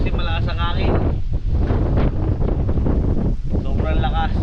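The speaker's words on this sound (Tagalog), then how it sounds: "malakas ang hangin" Strong wind buffets the microphone in loud, continuous roaring gusts, with brief voices near the start and end.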